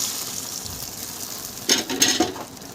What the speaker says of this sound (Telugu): టమాటీ రసం వేసిన తర్వాత, చింతపండు రసం వేసిన తర్వాత బాగా మరిగి ఇలాగా ఉడుకుతుంటుంది